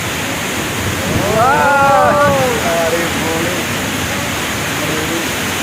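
Steady roar of rushing water at Chitrakoot Falls in Chhattisgarh, with a person's voice rising briefly over it partway through.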